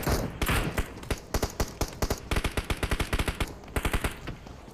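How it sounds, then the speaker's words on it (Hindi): Rapid automatic gunfire sprays in a battle royale video game, with a dense burst followed by a quick, evenly spaced series of loud, sharp shots in close succession. "रेबल अनिकेत का बहुत ही अच्छा स्प्रे, टीम 69 का बंदा ज्यूस नॉक हो चुका है"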